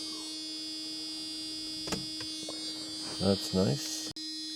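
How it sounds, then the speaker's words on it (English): A Mercedes W124 500E warning buzzer gives a steady, moderately loud electronic tone throughout, with a few clicks, while a person speaks briefly over it before it cuts off near the end. "Annoying buzzer."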